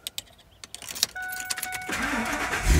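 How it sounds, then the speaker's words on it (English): A truck fitted with a hydrogen system and showing 189,000 miles starts up: keys jangle, then a short crank catches into a steady idle that grows louder toward the end. "And I'm going to go ahead and start the truck."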